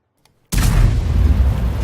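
S-51 self-propelled artillery firing in a tank video game, one sudden loud boom after a brief silence, followed by a long heavy low rumble that fills the rest of the moment.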